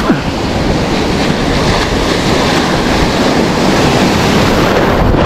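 Big ocean waves breaking continuously, a loud, steady broadband roar with wind buffeting the microphone throughout, no voices.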